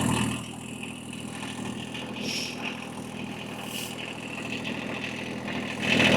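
A diesel tractor engine idles steadily close by on a farm before hitching a bush hog, a continuous mid-pitched rumbling drone with slight swells in level and no talk.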